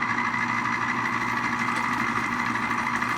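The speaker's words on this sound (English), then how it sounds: "all we have to do is push down with our citrus on the reamer" A pink Smeg electric citrus juicer runs with fruit pressed onto its reamer, giving a steady motor hum with a faint rattling buzz, moderately loud and unbroken, with no talk.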